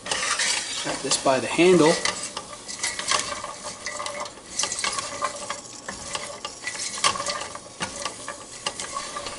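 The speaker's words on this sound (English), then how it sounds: "And we're just going to sweat these onions. Move that spatula. Sweat those onions." Onions and tough, fibrous vegetables sweat in a pan on the stove while a spatula scrapes and pushes them around, a soft sizzle under clattering metal strokes, with a short spoken remark early on.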